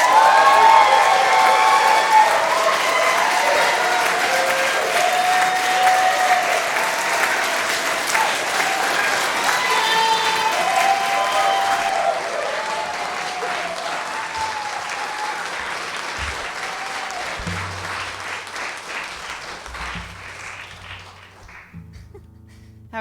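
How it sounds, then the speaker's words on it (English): Sustained applause from a live concert audience, loud and dense, with some cheering mixed in, gradually thinning out toward the end. "You guys already got your applause down."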